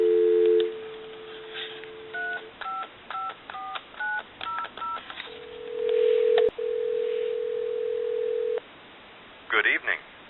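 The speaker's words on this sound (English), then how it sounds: "Give you some dial tone." Telephone line on a duck-themed repair bench: a steady dial tone, then a run of short paired touch-tone beeps, a long ringback-like tone and a click, ending in faint background talk.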